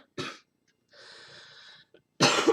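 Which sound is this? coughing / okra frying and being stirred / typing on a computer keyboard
coughing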